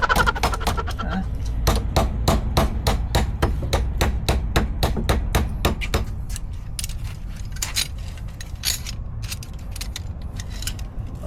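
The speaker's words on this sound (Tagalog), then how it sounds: "May kasamang pukpok." Sharp metallic hammer strikes ring out close by during repair of a garden hose fitting, coming rapid and steady at first, then more scattered and lighter toward the end.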